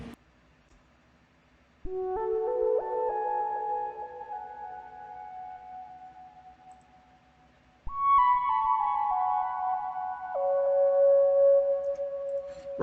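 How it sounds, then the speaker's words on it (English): The Tranquility lead synth from Analog Lab plays two long gliding phrases of sustained notes, bright and smooth, separated by a brief gap, loud and alone without any voices. "next we got this lead from Analog Lab. It's the Tranquility lead, and it sounds like this."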